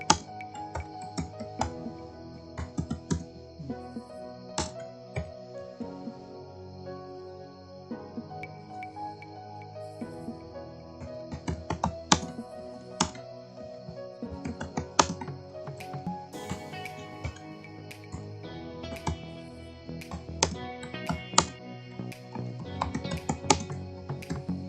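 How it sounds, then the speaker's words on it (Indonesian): Typing on a computer keyboard while writing in Microsoft Word 2007, a continuous run of close, crisp key clicks in uneven bursts over a faint background. "di sini saya ketikkan"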